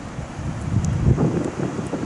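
Strong wind buffets the microphone at Moon Bay by the sea, a continuous rumbling roar with gusty swells and a faint wash of surf beneath, with no speech.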